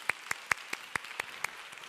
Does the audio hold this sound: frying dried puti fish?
no